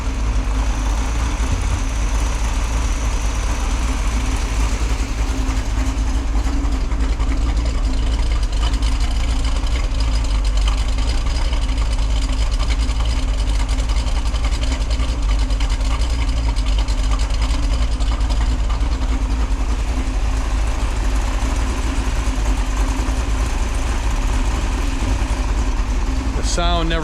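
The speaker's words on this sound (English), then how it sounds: "There's your engine." A Pontiac 400 V8 with a Ram Air cam idles in a barn, a loud, close, steady low rumble that holds unbroken throughout with no revving.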